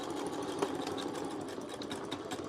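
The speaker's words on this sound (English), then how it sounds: "I'm going to back stitch" A sewing machine back stitches a half-inch dress seam, its needle running in a fast, even mechanical whir that holds steady at moderate volume throughout, with no talking over it.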